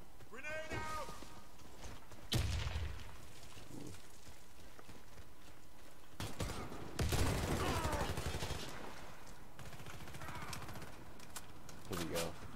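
Warface firefight with gunfire bursts and heavy blasts, including a grenade explosion, scattered across the stretch amid steady battle noise and a player's voice at the start.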